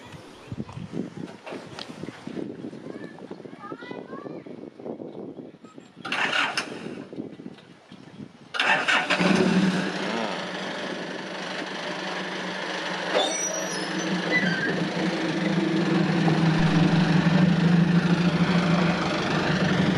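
After some rustling and faint voices, a turbocharged four-cylinder engine fitted to a six-wheel farm dump truck cranks and starts, then settles into a steady, rumbling idle that grows slightly louder, heard close by.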